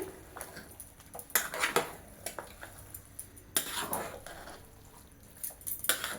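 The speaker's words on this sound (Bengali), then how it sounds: "এখন আমি উপর নিচে করে ভালো করে মিশিয়ে দিচ্ছি।" Mutton being turned and mixed in a cooking pot for biryani, giving irregular clinks and scrapes of a utensil against the pot, in bursts with quieter gaps and no talk.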